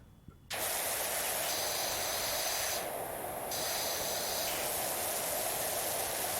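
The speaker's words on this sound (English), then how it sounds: "Am I being drowned out by the pressure washer?" Steady, loud hiss of a pressure washer spraying while cleaning a wall in the video game PowerWash Simulator, continuous and close after a brief quiet start, with a slight dip in the middle.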